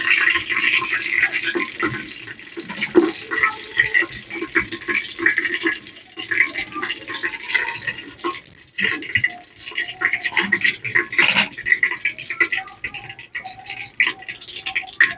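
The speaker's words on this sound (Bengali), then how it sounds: "তারপর দিচ্ছি আপনার পাঁচ ফোড়ন। একটু ভেজে নেব।" Panch phoron, the five-spice mix, fries in a pan for a vegetarian spinach-stem dish, giving a loud, continuous crackling sizzle with scattered sharper pops and scrapes throughout.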